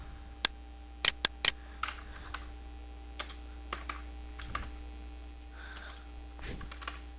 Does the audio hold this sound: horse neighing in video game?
no